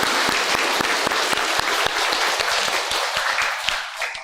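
Church congregation claps together during a Sunday worship service, a hearty burst of many hands with crisp, closely spaced claps filling the room for a few seconds before tapering off.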